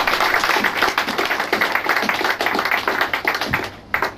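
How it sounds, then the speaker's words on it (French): A church congregation claps along together, a dense, steady patter of hands filling the room from start to finish, with no talk over it. "Applaudissons pour le Seigneur Jésus."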